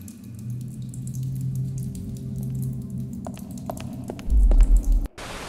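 Water drips onto stone in a cave in the game Lost Horizon, a series of sharp, sparse plinks over a low ambient hum, followed by a brief heavy rumble.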